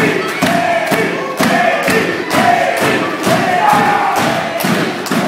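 A large indoor professional wrestling crowd roars and cheers continuously during an elimination tag match, with rhythmic thumps and rising chants pulsing through the loud, steady din.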